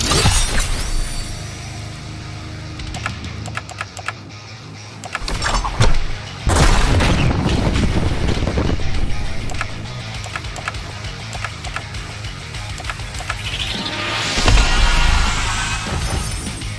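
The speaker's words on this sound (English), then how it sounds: "the sounds accompanying the flashy special effects are fantastic." Flashy special-effect sounds from the turn-based RPG Rise of the Third Power: a dense run of loud crashes, shattering bursts and booming impacts, with a sharp hit near the middle and a bright swelling whoosh toward the end.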